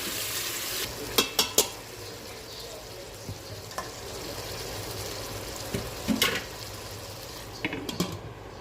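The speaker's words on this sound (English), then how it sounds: "Saute natin tong ating marinate na beef." Marinated beef for Filipino bistek sautéing in a pot, a steady sizzle with a few sharp clinks and scrapes of a utensil stirring the meat.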